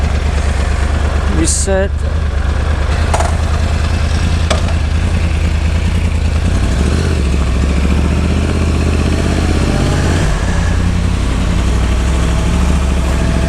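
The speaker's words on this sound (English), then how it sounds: "turn on the bike" A Yamaha YZF R1 1000cc superbike idles loud and close with a steady, deep rumbling throb; the engine note shifts slightly partway through, and a voice briefly speaks over it.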